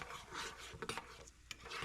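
Nuts and lentils fry and get stirred in hot ghee in a pan: a soft, continuous sizzle with scraping stir strokes and a couple of sharp clinks, close and fairly quiet.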